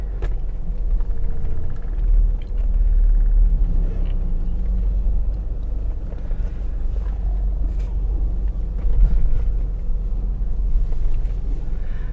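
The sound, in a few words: Mercedes-Benz 230E car driving on a test drive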